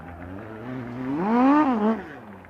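A USAC midget race car spins victory donuts in victory lane after a night-three win, its engine note rising and falling in a single revving swell that peaks and dips over a couple of seconds.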